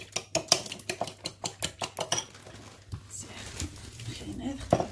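Chicken and cheese croquette mixture being stirred in a bowl, a fast rhythmic series of about a dozen close spoon-on-bowl taps and scrapes, then softer mixing with a quiet voice underneath.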